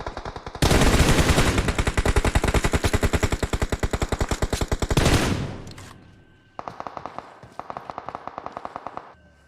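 Rapid automatic gunfire from a PUBG esports tournament match rattles loud and sustained for about four seconds, then fades, followed by two shorter bursts of fainter fire.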